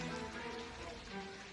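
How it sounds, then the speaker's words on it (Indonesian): Steady rain falls during a flood in the Ngalian district of Semarang, a soft continuous hiss of drops with no breaks and no voices. "situasi masih hujan."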